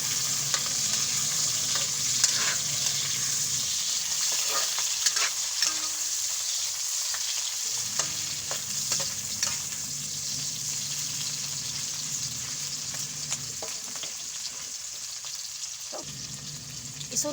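Garlic and tomato frying with leftover cooked rice in a home kitchen pan, a continuous hiss of sizzling oil with stirring scrapes throughout and a brief lull partway, no talking.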